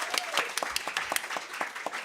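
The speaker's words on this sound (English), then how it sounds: "Give them another round of applause." Audience applause for performers at a music showcase, a steady burst of many hands clapping close by, with a few sharper individual claps standing out.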